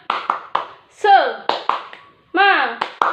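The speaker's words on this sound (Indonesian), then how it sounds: "Tepuk semangat." A class doing a rhythmic spirit clap: groups of sharp close claps in a patterned beat, with children's chanting voices between the clap bursts.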